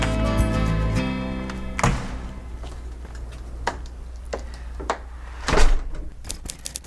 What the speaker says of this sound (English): kept the front screen door